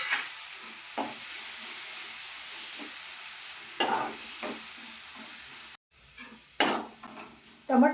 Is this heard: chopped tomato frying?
yes